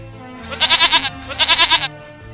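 A goat bleats twice in quick succession, each call a loud, wavering, vibrato bleat, close and clear.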